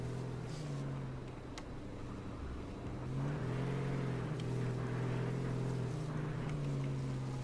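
Engine of a vehicle driven around in an online shooter game, a steady droning motor hum that swells slightly partway through, with no talk over it.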